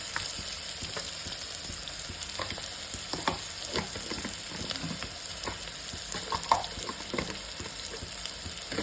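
Onion fries in a pan with a soft, continuous sizzle and occasional light stirring scrapes, quiet and steady with no voices.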